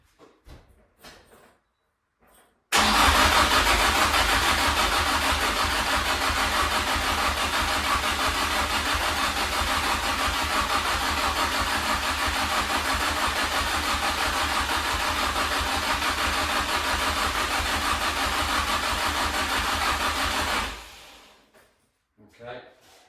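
A Toyota KE70 Corolla engine cranks, catches and then runs loud and steady at idle for close to twenty seconds before cutting off, with quieter handling noises at the start and end.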